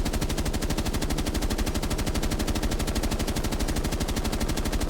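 Rapid automatic gunfire fills a Rainbow Six Siege aim-training session, with dense, evenly spaced shots rattling in one continuous loud burst.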